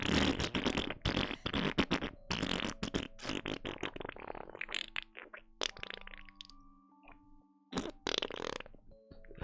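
A video-game fart sound effect, a string of rapid, loud, sputtering blasts that thin into fainter, broken bursts before one last strong puff, with no speech.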